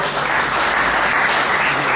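A church congregation gives loud, sustained applause for Jesus during a sermon, a dense steady wash of clapping from many hands filling the room without pause.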